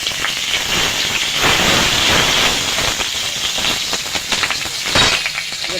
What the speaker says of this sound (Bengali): তেলটা গরম হয়ে গেছে, আমি দুটো তেজপাতা ফোড়ন দিয়ে দেব, কটা জিরে দিয়ে দেব